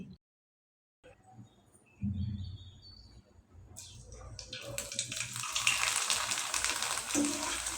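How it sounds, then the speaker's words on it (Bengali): Leftover-rice pitha dropped into hot oil, a few quiet seconds of handling, then a sudden, loud, close sizzle that keeps bubbling and hissing to the end. "এবার চলুন তেলে ভেজে দেখিয়ে দিচ্ছি"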